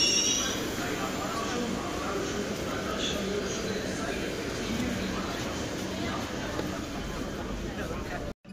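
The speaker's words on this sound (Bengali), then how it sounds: "মেট্রো চলে এসেছি" A Kolkata metro train runs with a steady, broad rumble and rattle of wheels and carriage, loud and continuous throughout with faint voices beneath, ending in an abrupt cutoff.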